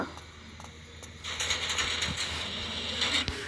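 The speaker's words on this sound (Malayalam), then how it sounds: "automatic door opening" A video game automatic door grinds open with a steady ratcheting, gear-driven whir that kicks in after a brief quiet moment and continues to the end.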